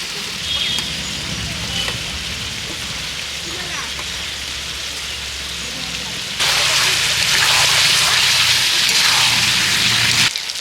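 Chicken curry pieces frying in oil with ground ginger, dried chilli, cumin, coriander and garlic pastes, a continuous crackling sizzle that turns louder and hissier partway through as it is stirred; a voice talks over it.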